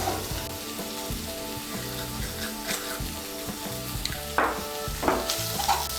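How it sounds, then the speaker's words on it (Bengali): Potatoes and pointed gourd fry with spices and salt in a pan while being stirred, giving a continuous sizzle with scraping stir strokes and occasional clinks against the pan, close and moderately quiet, with no voice. "নুনটাকে আলু পটল আর মশলার সঙ্গে ভালো করে মিশিয়ে নেব"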